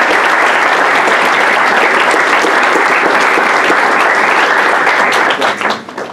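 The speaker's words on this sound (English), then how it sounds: "Come on now, clap for him." Loud, sustained audience applause for a student receiving a certificate at a Pickens County Board of Education meeting, a thick wash of many hands that tapers off in the final second.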